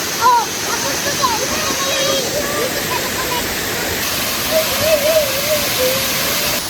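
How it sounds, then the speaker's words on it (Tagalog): Batlag Falls, a large waterfall in the Sierra Madre, roars in a steady, loud broadband rush while people talk over it. "Sobrang laki pala ng falls na to."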